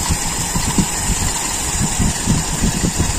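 A Toyota Kijang engine idles after its carburetor is adjusted to run richer at idle, a steady close mid-range rumble with faint uneven pulsing and no voices.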